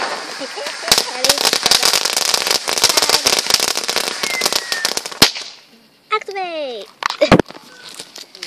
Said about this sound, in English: Guys, we got fireworks.